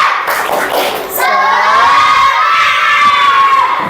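Schoolchildren in a classroom clap rhythmically for a moment, then break into a loud, sustained group shout, many young voices close and in unison.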